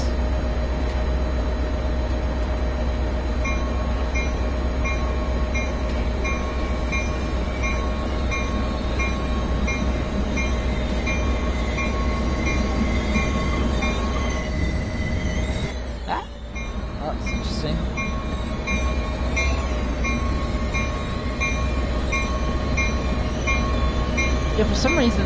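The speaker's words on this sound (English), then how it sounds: "Oh, hello, approaching train." A train approaches in Train Sim World 2020, heard from the cab as a steady rumbling run with humming tones and a brief squeal and rush of passing midway; someone talks over it at times.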